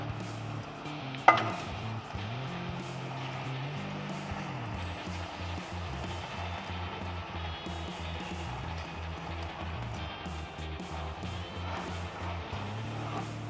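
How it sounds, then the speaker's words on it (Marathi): Rice sautés in a ground masala paste for prawn khichdi, with a continuous low sizzle under repeated rhythmic scraping of a spoon against the pot and one sharp knock early on. "तांदूळ याच्यामध्ये छान परतून घेणार आहोत"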